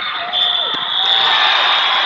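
A loud electronic buzzer sounds at the end of a high school wrestling match, a sustained harsh tone over a noisy gym crowd.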